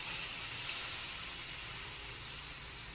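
Coconut milk poured into a hot pan meets oil and sets off a steady, loud sizzle and hiss that eases slightly as it settles, with no one speaking.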